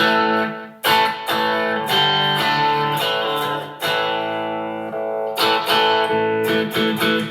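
A Variax JTV-69 electric guitar modeling a Les Paul Special strums thick, punchy chords in bursts with sustained ringing between hits, a warm mid-heavy tone, loud and up close.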